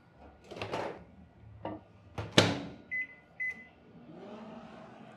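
A microwave oven used to melt semi-sweet chocolate: its door clunks open and shut, two short beeps sound as it is set, then the low hum of it running begins.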